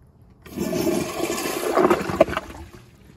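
A Toto CT705 toilet flushing on a piston flushometer: a sudden rushing surge of water that builds and swirls for a few seconds, then tapers off, heard close up with no voices.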